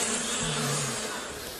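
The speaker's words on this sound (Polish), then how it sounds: "Nad kwiatami latały pszczoły." Bees buzzing over flowers in a quiet sunny garden, a steady close droning hum with one insect passing briefly nearer, alone without talk.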